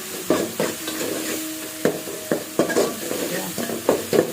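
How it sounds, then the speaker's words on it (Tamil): Ingredients for a kuzhambu curry sautéing in a pan give a continuous sizzle, with several distinct stirring clanks of a spoon against the pan at irregular intervals. No one speaks. "இப்போ வந்து நல்லா வசக்கியாச்சு."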